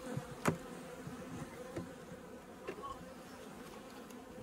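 A weak honeybee colony damaged by mites, with dead bees and abandoned brood, gives a faint steady hive buzz, broken by a few sharp knocks and handling sounds.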